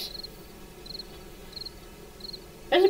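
Video game crickets chirp in short, evenly spaced pulses against quiet background ambience, followed by a sudden louder burst at the very end.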